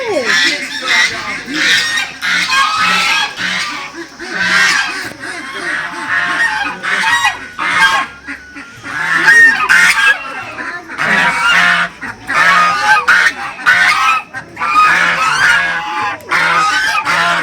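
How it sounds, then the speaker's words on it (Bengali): Many geese honk loudly and close by in an enclosure along the Pelling to Gangtok route in Sikkim, with dense overlapping calls throughout and faint voices in the background. "কত রাজহাঁস দেখো, এগুলো তো রাজহাঁস তো"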